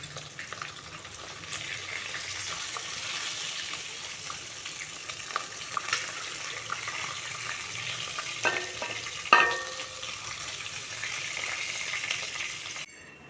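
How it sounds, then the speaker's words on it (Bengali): Pieces of catla fish fry in hot oil with a continuous crackling sizzle, close and even, broken by several clattering utensil knocks and scrapes near the end as the pieces are lifted out. "মাছগুলো ভাজা হয়ে গেছে, তুলে নিচ্ছি।"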